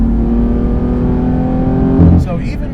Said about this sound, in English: that was the car breaking the rear tires loose going into third